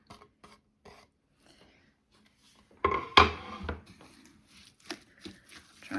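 Yacon fruit cake batter being stirred in a bowl for an all-in-one mix, giving a short burst of wet scraping and rubbing near the middle, with soft, sparse clicks and shuffles around it.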